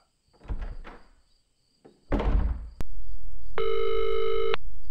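A telephone call being placed indoors: a couple of soft thumps and a rustle, then a sharp click, a steady ringback hum and a bright, clearly tonal ringing burst on the line.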